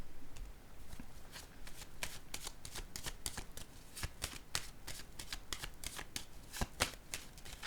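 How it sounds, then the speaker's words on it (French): Tarot cards being shuffled and laid down, a rapid run of crisp riffling snaps and papery flicks in uneven bursts, close and fairly quiet, with no speech over them. "Je vais déposer une autre carte."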